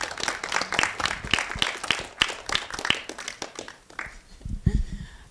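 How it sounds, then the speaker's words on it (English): An audience claps steadily through a round of applause at the close of a UI/UX masterclass session, dense and close, thinning toward the end as low voices and a brief bump come in. "Can we give them a big"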